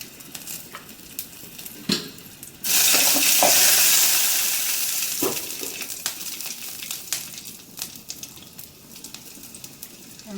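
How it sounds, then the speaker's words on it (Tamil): Green chilies frying in a pan for a chicken gravy lunch, a loud burst of sizzling that erupts suddenly after a couple of soft clinks, then slowly settles into a steady, fading crackle with faint stirring taps. "பச்சை மிளகா நல்லா ஃப்ரை ஆகட்டும்"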